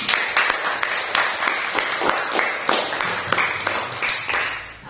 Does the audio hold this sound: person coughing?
no